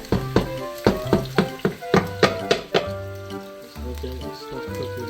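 Meatballs fry in a pot with a steady sizzle under a run of sharp, regular knocks and taps, close and fairly loud, with background music over it.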